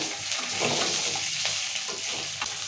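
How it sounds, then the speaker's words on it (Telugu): Coriander seeds roasting in a pan with dried red chillies, ginger, garlic and peanuts for a gongura chutney, giving a steady close dry sizzle with faint stirring scrapes and no talking. "ఇప్పుడు ధనియాలు వేసుకున్నాము కొన్ని వేసుకోవాలి ఇలా ధనియాలు"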